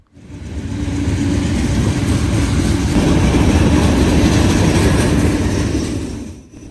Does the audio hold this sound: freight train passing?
yes